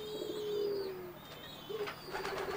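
Spotted dove (burung puter) cooing nearby, a few soft low tonal coos against quiet background hiss, with a faint higher chirp from another bird.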